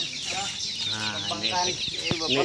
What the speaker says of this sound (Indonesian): ini peternakan itik